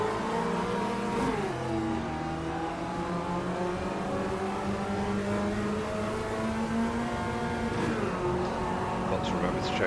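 Engine of a Chevrolet Chevette race car in Automobilista 2 at Interlagos, a continuous loud drone with pitch sliding through gear changes, other cars' engines layered around it and someone talking over it.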